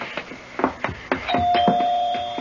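A doorbell rings as a radio drama sound effect, a sustained bright electric ring clearly heard over background voices and footsteps in a mystery scene.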